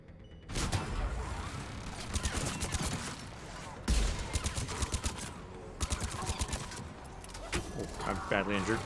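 Enemy gunfire in Mass Effect 3 crackles in rapid bursts and repeated shots amid loud combat noise, with a voice speaking over the fighting.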